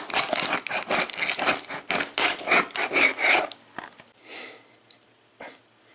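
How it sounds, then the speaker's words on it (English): A steak knife with a broken tip saws through packing material in quick back-and-forth strokes, a rapid rasping rhythm that stops halfway, leaving a few faint rustles and scrapes. "So we take the steak knife with the broken tip. We're gonna start sawing away here."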